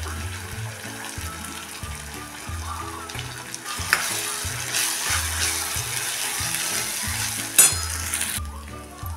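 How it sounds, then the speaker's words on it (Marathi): Ground masala paste with tomatoes frying in oil, a steady close sizzle broken by repeated scraping stirs and an occasional clink of the utensil, with no voices. "मसाला बघा आता तेल सुटेपर्यंत परतून झालेला आहे।"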